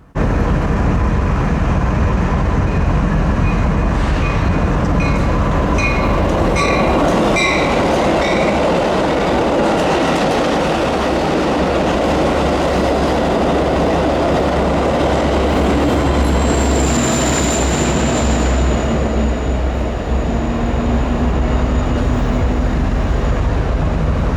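A freight train arrives at Bensenville Yard behind locomotive 515, a loud, steady rumble of rolling railcars with clanking wheels and a brief high squeal near the end, with no talking.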